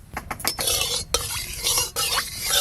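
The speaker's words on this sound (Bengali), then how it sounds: "আলুগুলো একটু লাল লাল করে ভালো করে ভেজে নেব।" Potato pieces frying in a pan for a chicken curry, with a sustained sizzle under repeated scraping and stirring strokes from a utensil, close and steady throughout.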